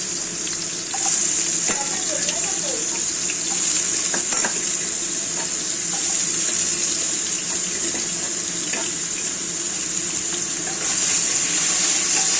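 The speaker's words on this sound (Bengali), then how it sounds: "চলো আলুগুলো দিয়ে দিচ্ছি প্রথমে আলুগুলো ভেজে তুলে রাখবো" Potato pieces frying in hot salted oil, a loud, steady hiss and crackle that runs continuously and close, swelling at the start and again near the end, with faint clinks underneath and no talking.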